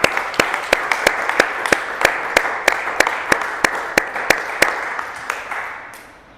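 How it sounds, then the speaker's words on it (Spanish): Evenly spaced, sharp claps ring out in a steady rhythm at a Spanish-English church service, loud and close, with voices faintly underneath before the clapping fades away. "Dale un aplauso al Señor."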